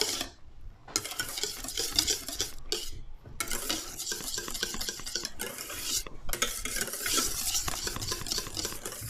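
A tiramisu mixture is whisked in a bowl with steady, brisk scraping and rattling strokes, loud and close, broken by a few brief pauses.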